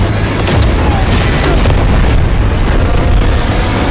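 Planted bombs go off in an action movie scene, a loud sustained roar of blasts and rumbling debris filling the whole stretch with heavy low-end booms and crackling bursts.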